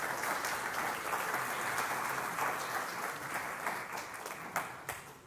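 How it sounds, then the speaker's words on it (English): A church congregation claps in steady, even applause through a Sunday service, a dense wash of many hands that starts full and then tapers slightly near the end. "I think you all deserve a round of applause"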